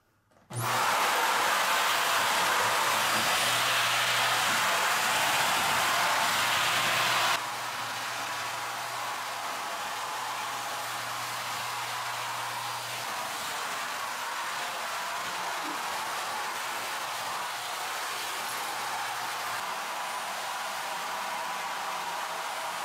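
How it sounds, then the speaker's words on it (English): An AirRunner canister vacuum cleaner runs under a bed, a loud steady whooshing roar with a low hum that starts abruptly, then drops slightly in level partway through and continues evenly. "Well, that's the AirRunner vacuum."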